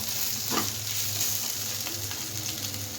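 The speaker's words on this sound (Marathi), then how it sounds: "आणि आता बटाटा टाकून देऊया आपण. बटाटा टाकलेला आहे आपण. त्याला उलटपलट करूया." Potatoes frying in a pan and being stirred: a steady, moderate sizzle with occasional scraping stirs, close by and without talk.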